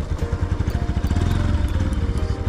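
A motorcycle engine pulls steadily on a mountain road from Kathmandu to Dolakha, its low rhythmic thrum close and loud throughout with faint wind noise and no talk.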